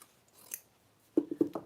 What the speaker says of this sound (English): So I'm going to cut out just around the shape first